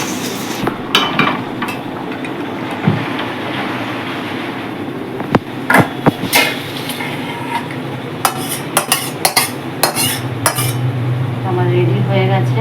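A pot of chicken curry comes off the stove with sharp metallic clanks and clinks of utensils in irregular bursts over a steady background rumble.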